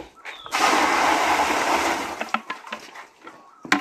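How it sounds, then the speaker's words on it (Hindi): Water poured from buckets into a tub, a heavy close gush lasting a couple of seconds, then scattered splashes and clatter. "दो बाल्टी ले डाल।"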